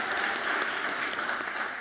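Audience at a distinguished alumni awards ceremony applauding: a dense, steady wash of clapping from a crowd that tapers slightly at the end, with no speech over it.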